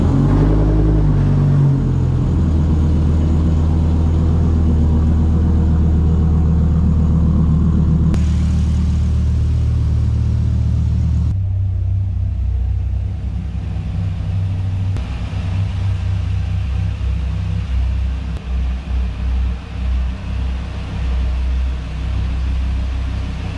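A Dodge Viper idles and pulls out of a garage, a deep rumbling engine note that steps down in pitch as it shifts, then settles into a loud, lumpy idle with pulsing throb, heard close and alone.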